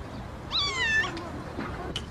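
A domestic cat gives one clear, rising and falling meow nearby, followed by faint background sounds and a brief high squeak near the end.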